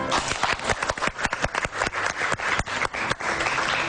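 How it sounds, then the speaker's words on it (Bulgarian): Guests applaud a newlywed couple at a Bulgarian civil wedding ceremony, a loud, dense burst of clapping with sharp individual claps standing out throughout. "Нека да го поздравим още веднъж с аплодисменти."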